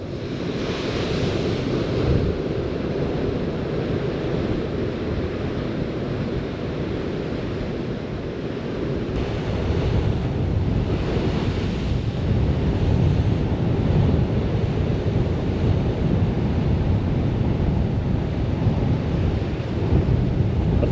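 Storm Nelson at Dawlish drives waves against the sea wall in a continuous heavy roar, blended with strong wind buffeting the microphone and rising in force partway through, with no talking.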